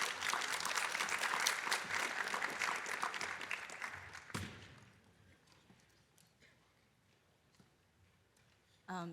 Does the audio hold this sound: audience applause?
yes